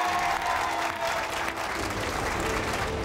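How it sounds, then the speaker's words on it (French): A crowd claps loudly and densely throughout, a continuous wash of applause with no pauses. "Applaudissements pour eux tous!"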